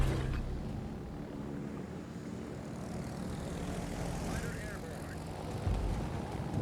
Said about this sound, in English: Brings his torpedo bombers for a run on this Yamato.